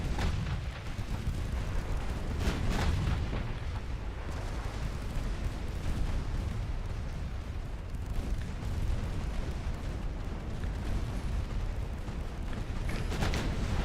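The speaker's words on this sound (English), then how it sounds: "Yeah, they're all shooting." Warship guns fire in the naval battle game Ultimate Admiral Dreadnoughts, a dense, continuous rumble of heavy booms with several sharper blasts standing out, loud throughout with no talking.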